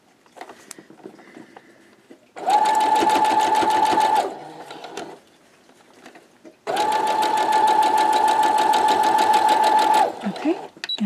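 A sewing machine stitches pieced quilt block units in two long, steady runs of fast, even mechanical whirring, separated by a quiet pause with soft handling noises, and someone talks briefly between runs.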